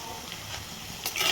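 Egg roast with green chillies and curry leaves being stirred and sautéed in a pan for a Kerala-style dish, giving a soft continuous sizzle with light scraping strokes, close and gentle.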